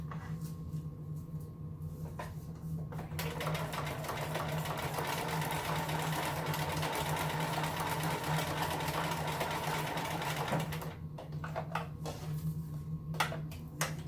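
A sewing machine stitches a Halloween costume, running steadily under a low motor hum for most of the stretch. It stops near the start and again near the end for short reverse-and-forward bursts, with light clicks in between.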